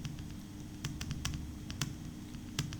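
Keys tapped on a computer keyboard while entering text into a PowerPoint chart cell, an irregular run of sharp close clicks spaced out over a few seconds, with no speech.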